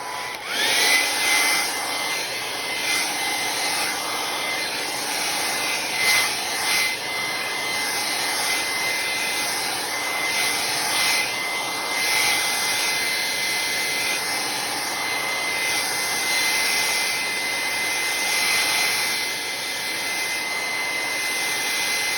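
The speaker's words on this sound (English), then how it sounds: "I have my blow dryer right here, and I'm gonna turn it on low" A hair dryer runs continuously on a low setting, producing a steady airy whoosh with a faint high whine, close and unbroken.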